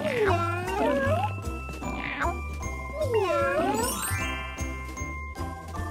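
Cartoon cats meow in a children's farm counting game, several bending mewing calls in a row over bouncy jingling game music and chimes.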